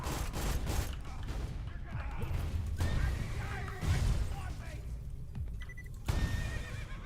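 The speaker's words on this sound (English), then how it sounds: "Let's make a horse sound." A horse neigh from the Boomicorn unicorn shotgun in Borderlands, mixed with gunfire, mechanical clatter and game noise throughout, with a voice talking over it.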